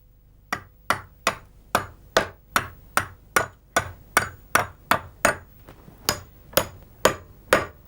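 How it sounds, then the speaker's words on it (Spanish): Steady hammer blows drive nails into a handmade packsaddle (albarda) in a traditional craft workshop, about fifteen sharp, evenly spaced strikes, close and loud, with no voices. "Los clavos entran a golpe de martillo."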